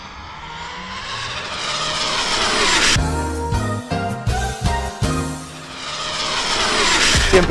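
An Arrma Limitless V2 GT Lambo RC car drives past with a rising and falling high-pitched electric motor whine that peaks loudly as it passes close by, then recedes and returns.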